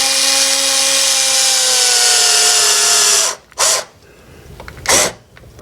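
A power drill whirs steadily and loudly up close while driving screws to mount a remote switch, then stops and gives two short bursts.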